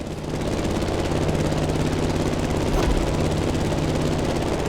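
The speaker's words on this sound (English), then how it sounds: "The plane has taken off, and it's on." A plane in The Crew Motorfest video game takes off with a loud, steady engine and propeller drone that holds for several seconds and dominates the mix.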